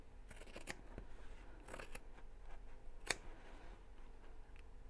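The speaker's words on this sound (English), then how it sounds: "snip into the corners, so not through the stitches but close to the stitches" Scissors snip into the corners of thick sewn fabric close to the stitches for a simple messenger bag, a series of quiet, crisp close-up cuts in irregular clusters with one sharper snip, no talking.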